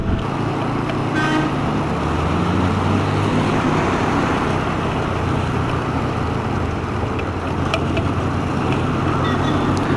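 A car drives along a road on the way to breakfast, a steady loud rumble of engine and road noise running the whole time, with a brief horn toot near the start.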